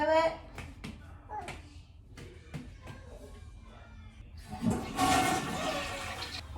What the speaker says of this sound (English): Alright, flush the toilet.